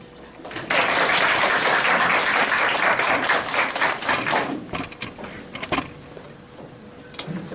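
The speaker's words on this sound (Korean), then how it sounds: "큰 박수 부탁드립니다." Lecture audience at a university green-campus special talk breaks into applause, loud and dense for several seconds, then thinning into scattered claps and a few stray taps.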